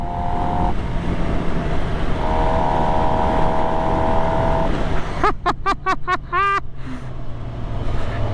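A 2025 Suzuki GSX-R750 supersport motorcycle with its stock exhaust runs loud and steady at close range, then fires off a quick series of sharp revving bursts that rise and fall in pitch.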